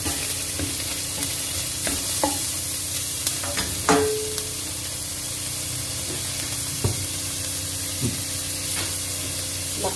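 Carrots sizzle steadily in a hot pan for spring rolls, a loud continuous hiss with occasional clicks and scrapes of stirring, no voices.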